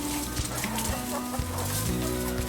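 A lively flock of backyard chickens and roosters clucks and squawks nearby, overlapping calls rising and falling throughout amid busy farmyard bustle.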